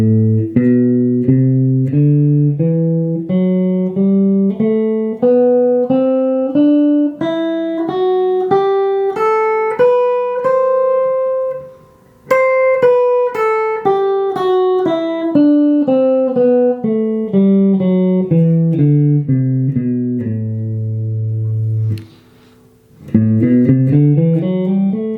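A guitar plays a Dorian mode scale note by note, climbing steadily to a peak and then descending, with clean sustained single tones, a short pause midway and another near the end before notes resume.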